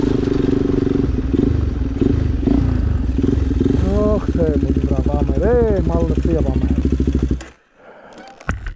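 A motorcycle engine runs loud and close, chugging steadily with revving pitch rises, then cuts out abruptly before briefly sputtering again.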